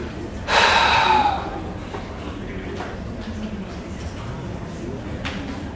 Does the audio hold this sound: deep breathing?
yes